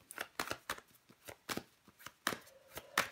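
Tarot cards slapped and laid down on a reading surface, a string of sharp, papery taps and soft riffles at an uneven rhythm, close and quiet with no talking.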